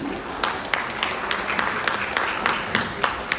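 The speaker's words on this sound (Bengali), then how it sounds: "এদের জন্য একটা জোরে হাততালি প্লিজ" An audience claps for the film team in steady, moderately loud applause, with individual claps audible in a quick uneven rhythm throughout.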